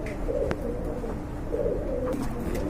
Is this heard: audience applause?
no